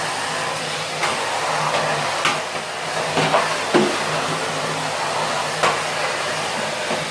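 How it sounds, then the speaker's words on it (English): A vacuum cleaner hoovers a house with a steady, loud whooshing drone that runs unbroken throughout, broken only by a few faint knocks and bumps as it moves, and no one speaks. "Anyway, back with the hoovering."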